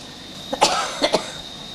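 A hospital patient with bilateral pneumonia coughs several times in short bursts, close and fairly loud, over a steady background hum.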